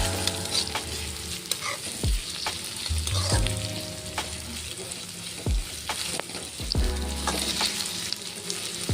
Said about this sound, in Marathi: कारले आपण त्यात टाकून त्याला छान असं भाजून घेणार आहोत।